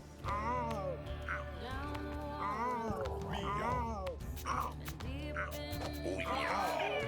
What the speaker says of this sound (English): If you want to hear Ed's cat one more time, here you go.